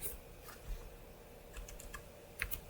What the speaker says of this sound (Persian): استون رو تایپ میکنیم، اینتر میزنیم